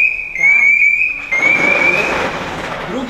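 A loud, steady electronic alarm tone from a firefighter's motionless alarm sensor sounds close by for about two seconds in a fire station, then fades into rumbling noise and muffled talk.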